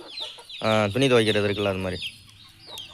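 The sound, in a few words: chicks clucking while roaming around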